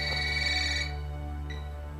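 A telephone rings with a bright electronic ringtone, two short bursts over a steady low hum, loud and close with no talk.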